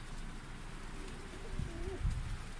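Low pigeon coos, a soft rolling call near the end over steady background noise, close by and fairly quiet.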